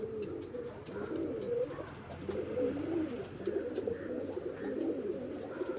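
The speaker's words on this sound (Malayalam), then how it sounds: "ഇതാട്ടോ പ്രാവ് വരുന്നത്." Pigeons kept for breeding and sale in Malappuram coo steadily and softly, with repeated low throaty calls nearby over faint background hum.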